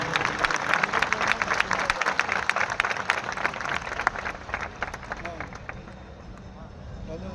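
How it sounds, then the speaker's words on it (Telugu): Sustained applause from a large audience at a Christian gathering honoring Dr. Satish's birthday and thanksgiving celebration, dense steady clapping with crowd noise that eases slightly toward the end, voices mixed in. "సోదర సోదరీమణులందరూ పెద్ద ఎత్తున చప్పట్లతో డాక్టర్ సతీష్ గారికి జన్మదిన శుభాకాంక్షలు తెలియజేయాల్సిందిగా కోరుకుంటున్నాను."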